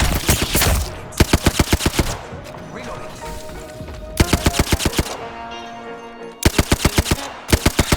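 Hemlok rifle fire in Apex Legends, crisp rapid bursts of shots in tight rhythmic clusters, loud and close, broken by brief pauses filled with game ambience and scattered effects.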